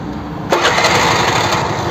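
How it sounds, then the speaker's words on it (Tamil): A TVS Scooty Pep+ scooter engine, repaired after a spark plug fault, catches at mid-clip and settles into a steady, close, buzzing run with no talk. "இப்போ நான் பைக்கை ஸ்டார்ட் பண்ணுறேன்."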